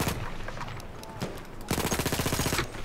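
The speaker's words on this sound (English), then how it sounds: "I think there's actually, yeah, gunshots from up there." Battlefield 1 gunfire crackles from a distance at first, then a rapid automatic burst of shots rattles out in a steady stream, while a player talks over the action.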